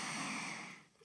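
A single close, audible breath drawn in through the nose during a guided relaxation exercise, a soft airy inhale that fades out near the end.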